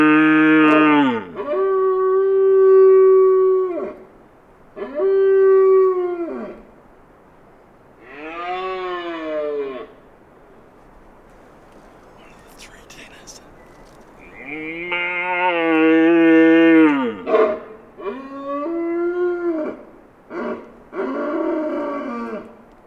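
Red deer stag roaring in rugged southern country, a series of loud, drawn-out bellowing calls with pauses between them, close and alone without talk.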